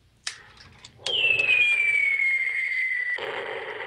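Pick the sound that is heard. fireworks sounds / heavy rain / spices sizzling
fireworks sounds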